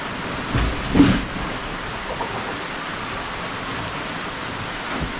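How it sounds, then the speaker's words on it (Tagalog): Steady rain hisses evenly throughout, with a soft dull thump early on and a fainter one near the end. "Wow, nabutan na ulan."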